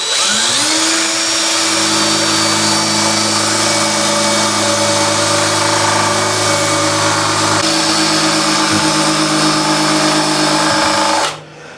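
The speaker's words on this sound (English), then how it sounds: "I'm going to drill that out" An electric drill runs continuously at high speed while drilling out a plug on an Ocean Pirate 43 boat project, a loud, close whine that holds steady before cutting off abruptly at the end.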